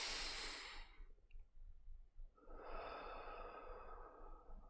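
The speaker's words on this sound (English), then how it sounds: "enjoy a nice conscious deep breath in" A conscious deep breath in during a calm mindfulness practice, a soft airy inhale that fades into a short pause, followed by a longer breathy release, close and quiet with no talking.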